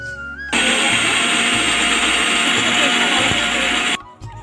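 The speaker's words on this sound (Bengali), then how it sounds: "এবার আমি মিক্সির ঢাকনাটা ঢেকে দিয়ে আমি মিক্সারে পেস্ট করে নেবো" Electric mixer grinder blending fresh green leaves into a herbal hair paste, a loud steady whirring that starts abruptly, runs for about three and a half seconds, then cuts off, with faint speech before and after.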